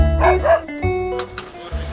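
A poodle gives a couple of quick, close, loud yipping barks with whiny tones, followed by a short voiced sound.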